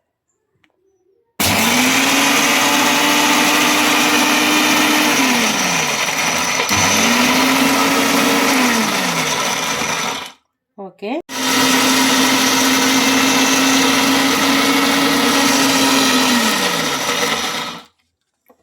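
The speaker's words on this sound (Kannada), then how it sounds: "ಈಗ ಮಿಕ್ಸಿ ಆನ್ ಮಾಡ್ತಾ ಇದ್ದೀನಿ ನೋಡಿ." Electric mixer grinder (mixie) grinding shelled peanuts, a loud steady whirring motor hum in three bursts with brief pauses between, the pitch dropping as each run ends; a brief word is spoken before it starts.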